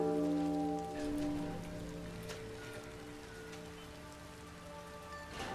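Steady rain patters throughout in the video game Sky: Children of the Light, an even wash of drops on surfaces, with soft tonal game music fading beneath it.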